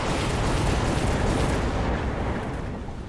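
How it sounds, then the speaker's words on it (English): Rockets explode in the mech auto-battler game Mechabellum, a dense, loud, continuous roar of blasts and rumbling booms that eases off slightly toward the end. "He just used some rockets on me, but a lot of them missed."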